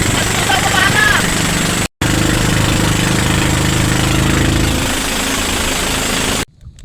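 A large motorboat engine drones steadily at sea, a loud continuous low rumble with wind buffeting, briefly cut once, while someone talks over it.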